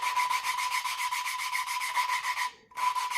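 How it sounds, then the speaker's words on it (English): Engine valves being lapped on a Farmall Cub tractor, a fast, even rhythmic rubbing grind of valve against seat, close and continuous, pausing briefly near the end before resuming. "It'll change as the valve gets lapped to the cylinder, to the seat itself"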